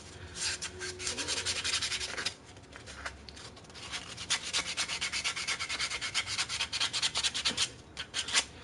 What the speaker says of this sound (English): start off sanding in the direction of the grain, so it's all going that way